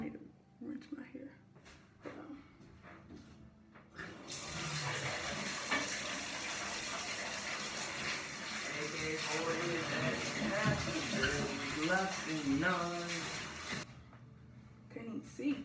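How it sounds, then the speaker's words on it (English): Water runs steadily from a tap over hair during a rinse, a continuous close gushing spray lasting about ten seconds, with people talking before and after it and faint talk over the flow. "I need to rinse my hair."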